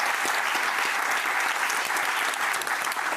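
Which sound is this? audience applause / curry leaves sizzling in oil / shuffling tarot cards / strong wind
audience applause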